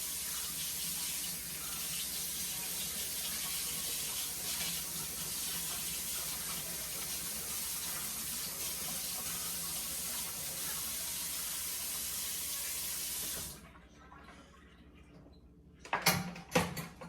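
Kitchen tap water runs steadily and fairly loud while sweet potatoes are washed under it, then cuts off, followed by a few short knocks and clatters.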